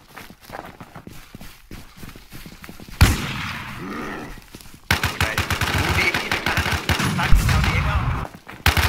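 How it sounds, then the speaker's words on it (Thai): Shooter-game gunfire: rapid, loud automatic bursts that start abruptly after a quieter stretch with footsteps, then keep going in close, repeated volleys. "มันนั่งยิงเลยว่ะ"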